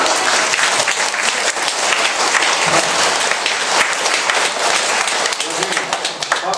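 Sustained, dense audience applause fills a church health seminar hall in Seongnam, with many hands clapping steadily and loudly throughout, with no pause.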